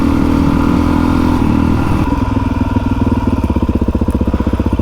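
Adventure motorcycle engine on a cold trail ride, loud and close, starting as a steady roar that drops to a rhythmic, pulsing idle-like chug with a clear repeating beat.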